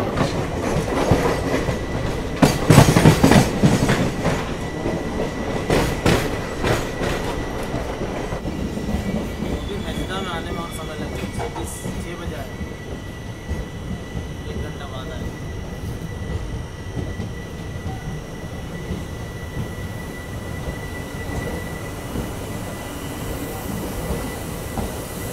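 The Coromandel Express passenger train runs on rails in India, heard from inside as a loud, continuous rumble with rhythmic wheel clatter at the start and a faint squeal, with no talk.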